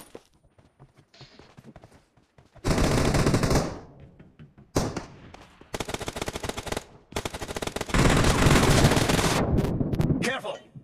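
Gunfire in PUBG Mobile: loud, close bursts of automatic fire in several long volleys, broken by short pauses and quieter gaps with faint game sounds between them.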